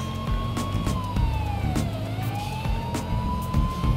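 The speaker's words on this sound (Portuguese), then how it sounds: "Mesmo com a sirene ligada" Police car siren in GTA V, a loud continuous wailing tone that sweeps down and back up over a rumbling vehicle engine, heard alone without voices.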